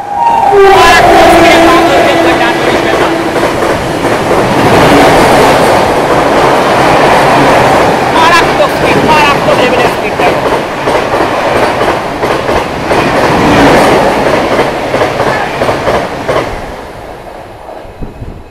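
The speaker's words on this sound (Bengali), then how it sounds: "ডানকুনি স্টেশনে 3 নম্বর প্ল্যাটফর্ম থেকে একটা এক্সপ্রেস ট্রেন পাস হচ্ছে দেখো।" An express train roars through Dankuni station at high speed, a loud continuous rush of wheels and clattering carriages lasting throughout, with brief horn tones early on, fading slightly at the end.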